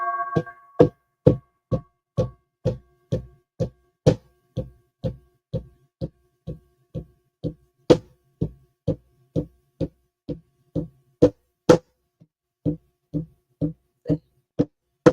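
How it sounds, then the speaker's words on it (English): A hand drum beats a steady, slow pulse like a heartbeat, about twenty-five evenly spaced deep thumps, close and clear, after a brief tonal hum at the start and with a short pause near the end. "I gotta beat my drum on that one."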